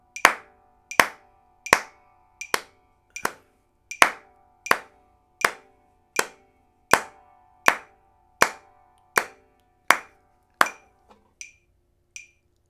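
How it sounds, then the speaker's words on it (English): Hands clap in time to a metronome while practising banjo timing, sharp single claps at an even, steady pulse, about sixteen in a row, close and clear with no talking, the last few clicks fading. "And I clap."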